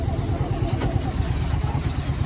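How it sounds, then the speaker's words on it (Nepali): A motorbike engine runs close by with a steady low rumble and mid-range clatter that holds for the whole stretch, loud and continuous, in a Nepali neighbourhood where a new house is going up. "मनोज दाई कहाँ जानुभएको यो बाइकबाट"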